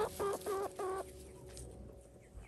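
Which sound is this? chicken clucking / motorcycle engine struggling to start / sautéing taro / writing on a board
chicken clucking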